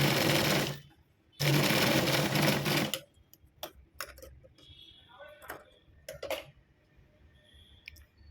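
Sewing machine stitching a latkan tassel onto blouse cloth in two loud, close bursts of rapid whirring, followed by quieter clicks and handling of fabric while a voice talks softly.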